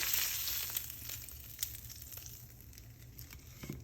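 A thick Florentine steak sears in a hot pan, a steady hissing sizzle with soft crackles and pops, loudest at the start and easing slightly.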